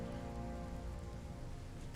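Steady, soft rain patters continuously in a Pathfinder: Wrath of the Righteous game scene where blood rains down, a dense even hiss with no voices.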